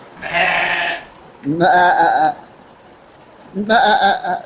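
A sheep bleats three times, close and loud, each wavering call lasting under a second with quiet gaps between.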